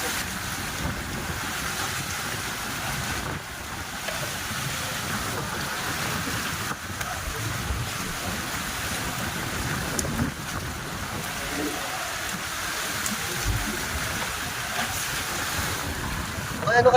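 Big sea waves wash and surge steadily at a fishing spot with strong water flow, heard alongside continuous wind buffeting on the microphone throughout, with a boat-like rumble beneath.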